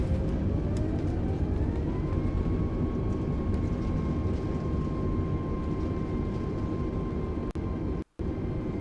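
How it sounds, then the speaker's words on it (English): Airbus A320neo engines roaring into reverse thrust on landing in Microsoft Flight Simulator 2020, a steady loud broadband rumble with a whine that rises and settles early on, holding until a brief cutout near the end. "Idle throttle. And down. Reverse thrust sets."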